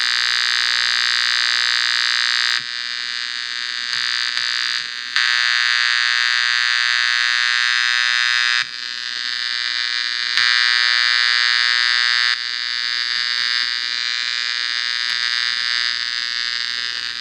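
An old five-dollar GE transistor radio plays steadily with a loud, harsh, tone-heavy output that shifts in level a few times over the stretch, with no talking.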